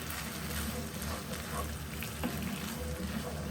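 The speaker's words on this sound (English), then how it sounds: "I'm going to add my passata, which is just a finely sieved tomato." Passata, a finely sieved tomato, cooking in a pan with millet and vegetables, giving a steady, soft bubbling and sizzling hiss with faint pops throughout.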